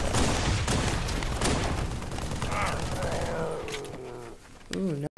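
Video game match gunfire, continuous fusillade of rapid shots, loud at first then thinning, with a voice talking over it near the end.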